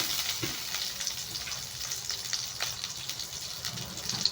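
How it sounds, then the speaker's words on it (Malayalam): Butter melting and sizzling in a pan already used for making tomato soup, a quiet, continuous hiss with faint crackles close by. "ഇനി ഞാനിവിടെ ഈ സെയിം പാനിലേക്ക് കുറച്ചും കൂടെ ബട്ടർ ഇട്ട് കൊടുക്കുവാണ്"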